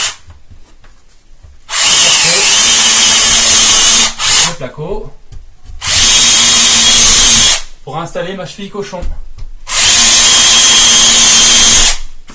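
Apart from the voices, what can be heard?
power drill with drill bit drilling into plasterboard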